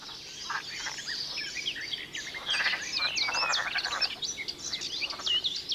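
Green frogs just out of hibernation croaking at a pond, several overlapping rattling calls in irregular bursts, fairly close and clear, with faint birdsong behind.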